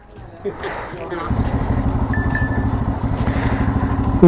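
A motorcycle engine rumbles steadily at a close range after a brief moment of other noise, throbbing evenly as the bike rides along.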